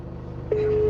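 A single steady electronic phone tone sounds for about half a second in the second half, rising out of low background hum as someone calls from the bank entrance.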